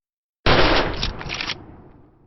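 A single rapid burst of AK rifle fire lasting about a second, loud, close and in-your-face, processed with harmonizer and distortion, then a short fading tail into silence.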